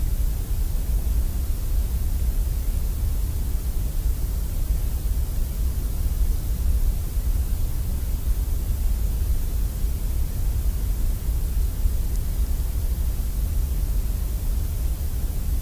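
Brown noise plays as a steady, unchanging wash heavy in low bass rumble, a dense smooth hiss with no breaks or other sounds throughout.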